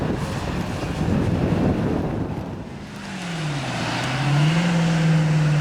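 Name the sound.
Chevrolet Camaro 4.3 race car at hill climb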